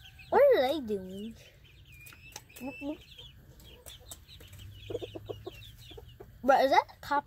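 Chickens clucking on a farm near a copperhead snake, with several loud close clucks and squawks at the start and end, and someone talking among them.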